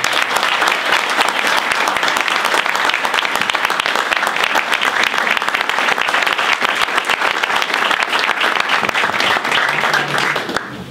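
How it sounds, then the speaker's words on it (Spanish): A room of residents and small-business owners at a meeting in Gualeguaychú warmly applauds the arrival of Axel Kicillof, a thick, continuous burst of close clapping that runs nearly eleven seconds before thinning out. "Así que yo ofrezco un cálido aplauso para recibir a Axel."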